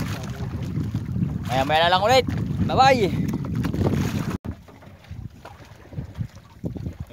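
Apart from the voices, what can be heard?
fishing boat engine running at night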